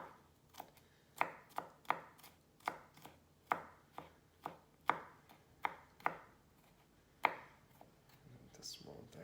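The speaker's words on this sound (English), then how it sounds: "I'm going to just finely slice this ginger root and garlic" A knife finely slices ginger root and garlic on a cutting board, a run of crisp, evenly spaced chops, close and clear, with a short pause near the end.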